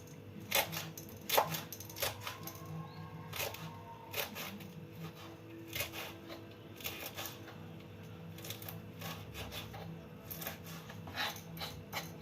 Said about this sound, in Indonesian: Ini kita iris cabai hijau dulu, itu cabai merah.